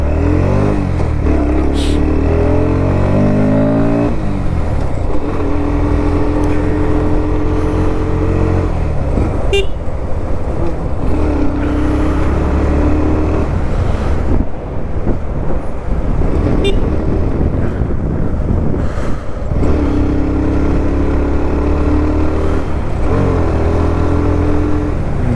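A motorcycle rides fast along a village road, its engine droning steadily and rising and falling through gear changes, with wind rush throughout and no talk.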